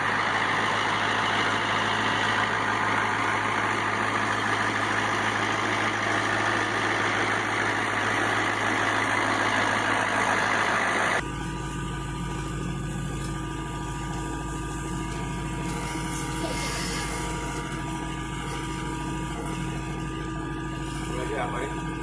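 Mahindra 2638 tractor running a snowblower gives a loud, steady engine drone and churning whir close by, shifting in tone partway through as the machine moves, with voices chatting over it.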